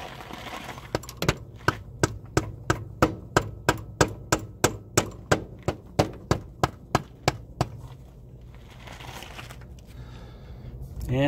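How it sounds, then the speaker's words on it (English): A rubber mallet struck repeatedly on a CV axle of a 2012 Toyota Corolla, about twenty sharp, evenly spaced knocks at a brisk rhythm, close and loud, then stopping into quiet shop background. "So I'm just using this rubber mallet. I'm not using any metal to metal or nothing."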